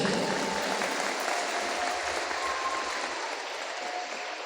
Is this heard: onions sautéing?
no